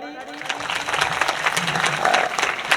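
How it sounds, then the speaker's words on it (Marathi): Audience clapping at a Marathi kirtan, a broad wash of applause building and sustained for a few seconds while a voice talks over it. "टाळी तर जमके वाजवा, एकदा वाजवा टाळी."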